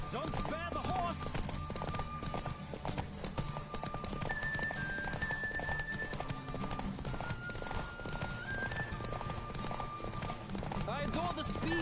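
A horse gallops in The Witcher 3 video game during a race, with steady rapid hoof clip-clop under music and a voice talking throughout.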